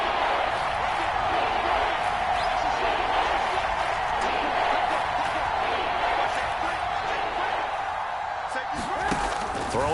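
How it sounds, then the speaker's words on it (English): A stadium crowd in a football video game roars steadily ahead of a big third down, a dense continuous wash of cheering that stays even throughout, with broadcast commentary voices faintly mixed underneath. "the crowd getting into it as we come up on a big 3rd down"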